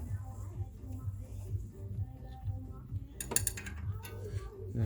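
Wrench turning the camshaft on a BMW N55 engine during a cam servo motor change: steady mechanical ratcheting clicks in an even rhythm, close by, with a brief sharper metallic burst near the end.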